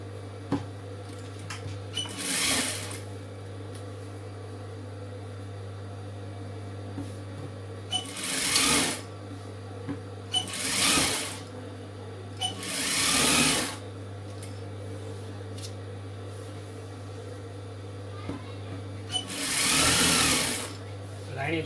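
A tailor's sewing machine stitches around a churidar neckline, firing in several short, loud bursts of rapid clatter separated by pauses filled with a steady low hum, and a voice speaks between the runs.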